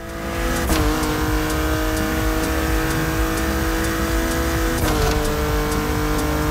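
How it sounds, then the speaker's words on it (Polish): A BMW engine in the racing game The Crew Motorfest revs loud and sustained, with two brief gear-shift breaks and no voices over it. "Trzeba przyznać, że ładnie brzmi ta BMW."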